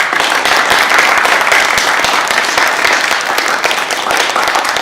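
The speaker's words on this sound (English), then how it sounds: "please give her a round of applause." A crowd applauds steadily, dense clapping filling the room at an even loudness throughout.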